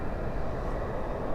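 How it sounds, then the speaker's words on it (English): A Sun Country airliner lands at Dallas/Fort Worth airport at night with spoilers up and thrust reversers deployed, a steady loud broadband engine roar with no breaks. "that is a Sun Country plane. Spoilers up, reversers out."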